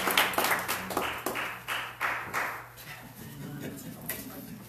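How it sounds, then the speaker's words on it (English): A church congregation claps in scattered, uneven bursts for performers, individual claps distinct and fairly soft, thinning out toward the end over faint room noise. "Let's give them another round of applause."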